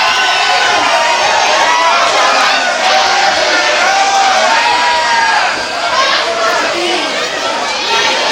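At a wrestling match, the crowd roars and cheers wildly, a loud continuous wall of shouting and chatter with scattered whistles and yells rising throughout.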